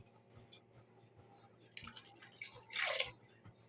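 Water pours into a cooking pot of tamarind curry in a short splashing burst, rising to a louder gush near the end, with faint background hum and no voices.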